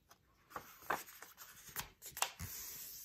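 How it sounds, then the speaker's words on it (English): Paper is folded and firmly creased by hand while making a fortune teller, producing soft crinkles, rubs and a few sharp snaps in quick succession, quiet and close with no voices. "turn it this way, fold it back again"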